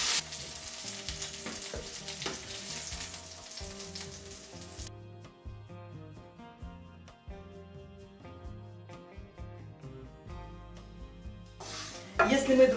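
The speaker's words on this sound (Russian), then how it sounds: "я обжариваю всего по 3 котлеты." Chopped chicken cutlets with vegetables fry in a pan, three at a time, making a steady close sizzle with occasional utensil clinks and scrapes. It drops to a softer crackle partway through, then flares up loudly at the end.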